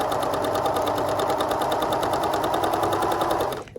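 A sewing machine stitches a waistband closed in one continuous, even run of rapid mechanical clatter, loud and close, then slows and stops near the end.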